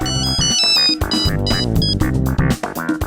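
Telephone ringing in an Indian TV drama household scene, a loud, steady electronic ringtone playing continuously with repeated melodic bursts.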